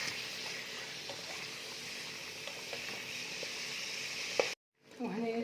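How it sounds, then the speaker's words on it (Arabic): Chicken wings frying in butter in a pan, a steady close sizzle that runs unbroken, then cuts out abruptly near the end before a brief softer rattle. "نقعد نقلي في الجنحين مع الزبده"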